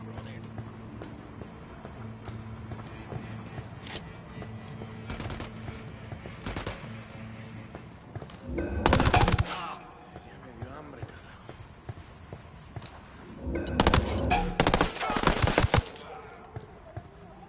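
Gunfire erupts in Ghost Recon Wildlands, with a few sharp single shots early on and two loud, dense bursts of automatic fire later, set against quieter background noise as voices talk throughout.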